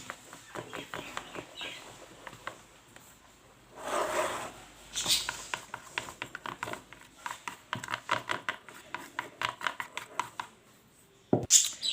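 A spoon stirs a strawberry-flavoured dessert mixture in a bowl, making a quick run of soft scraping and tapping strokes. They start faint, grow steady and dense, and end with a louder knock.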